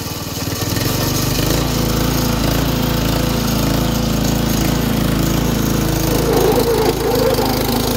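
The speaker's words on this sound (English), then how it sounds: "let's go ahead and jump up on here and try and drive this thing" An Allis-Chalmers WD tractor powered by a Predator 212 small engine drives along, putting out a loud, steady, rattling chug that continues without a break.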